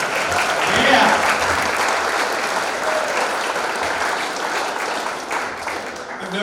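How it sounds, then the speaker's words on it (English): A crowd at a sports Hall of Fame induction ceremony breaks into loud, sustained applause with some cheering, filling the room evenly. "I want a round of applause for that"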